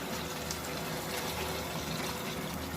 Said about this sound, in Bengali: 1 কাপ দুধ দিয়ে দেব।